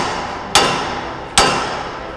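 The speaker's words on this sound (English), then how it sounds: "we take 2 hammers. The first hammer pretty much takes the blow of the second hammer" Two sharp metallic hammer strikes on a hammer held against a Ford Bronco steering knuckle, loud and close, spaced under a second apart, each ringing out briefly.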